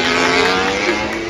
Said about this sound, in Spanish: Ha pasado Marc Márquez y ahora su moto.